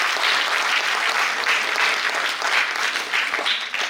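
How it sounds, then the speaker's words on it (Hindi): A theatre audience gives strong, dense applause at a Hindi stage play performance. The clapping is sustained and loud from start to finish, a full crowd with no voices on top. "एक बार और जोरदार"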